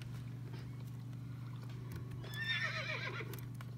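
A horse in a horse-riding video game lets out a loud, quavering whinny that rises and falls over a steady electronic hum, with no talking.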